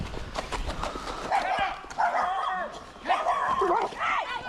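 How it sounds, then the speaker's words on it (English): Guard dogs barking at a remote rural property, repeated yelps and barks mixed with excited whimpering, heard fairly close over background noise and talk. "The bravest guard dogs always seem to live out in the middle of nowhere."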